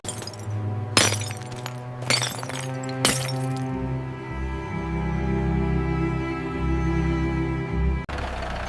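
Old glass in a barn window shatters after being hit by a ball, three sharp, loud crashing bursts close together, followed by a lingering tinkle and steady background tone.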